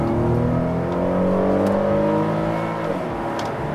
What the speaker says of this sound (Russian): Едем 70, газ в пол.